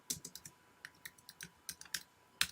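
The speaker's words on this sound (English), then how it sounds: "I'm just typing up names right now" A computer keyboard is typed on while names are entered during a casual live hangout: quiet, irregular clicks and taps in short bursts, close by, with no talking.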